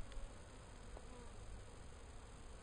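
Bees humming around an open Technoset hive, a faint steady drone close by with a few soft handling sounds, no voices.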